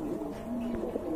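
Pigeons at a bird market cooing, a soft low rolling coo held near and faint, with a light knock partway through.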